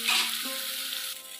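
Eggplant pieces fry in hot oil in a pan, a close, bright, crackling sizzle that starts loud and settles into a steady hiss over a brief moment, with no talk.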